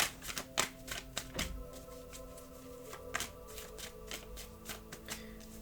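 Tarot cards are shuffled close up, with quick papery riffles and sharp taps in irregular bursts. The handling is quiet, and no one speaks.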